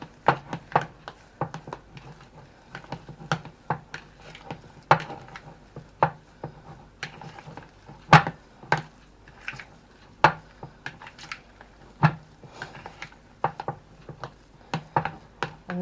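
Cheese, onion and potato pie filling with Worcestershire sauce is mixed by hand in a bowl, a utensil knocking and tapping against the dish in an irregular run of close, dry clicks over a quiet background, with no talking.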